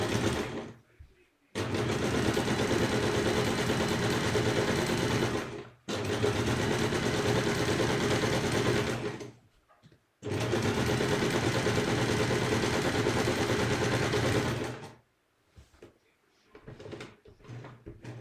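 A sewing machine stitching back over fabric runs in three long, steady whirring bursts separated by short pauses, close and loud, with light handling clicks at the end.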